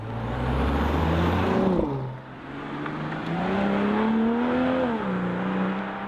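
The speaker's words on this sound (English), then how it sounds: "we put the BMW M440i as a convertible here in the Sport Plus mode and heading on to the motorway" A 2021 BMW M440i convertible in Sport Plus mode pulls onto a motorway, its engine droning loudly and close, with a brief dip as the gear shifts before the pitch climbs steadily again under acceleration.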